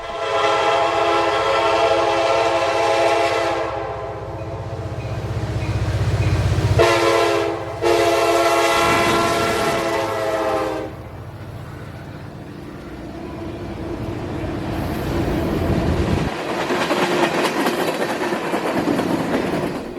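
A freight train in northwest Georgia rumbles past close by, its horn blaring in long, loud blasts before the rolling clatter of wagons continues.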